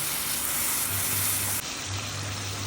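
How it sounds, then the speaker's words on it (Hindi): Tomato puree from two tomatoes goes into roasted onions in a pan, giving a steady, close, moderately loud sizzle and hiss that continues through the whole moment, with a slight drop partway and no talking. "अब इसमें हमने डाली है 2 टमाटर की प्यूरी।"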